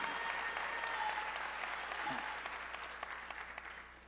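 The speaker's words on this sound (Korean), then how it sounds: "읽은 사람만 박수치라." A church congregation applauds during a sermon, a dense wash of clapping from many hands that starts full and gradually thins and fades, with faint voices mixed in.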